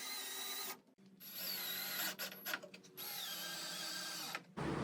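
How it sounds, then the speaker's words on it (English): A screw gun drives coarse wood screws into fence pickets for a garden planter box, whirring in several bursts at part throttle with short pauses and stops between them. "Notice I'm not going wide open with this screw gun. These are coarse wood screw."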